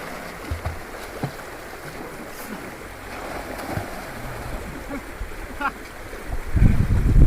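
A river runs past a picnic spot on its bank, a steady rushing wash with occasional knocks and splashes, growing louder and rougher near the end.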